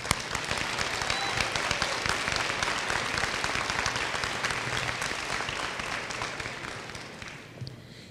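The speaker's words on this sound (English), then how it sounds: "Please give them a round of applause." Audience at a senior awards ceremony applauding, dense sustained clapping from many hands that fades toward the end.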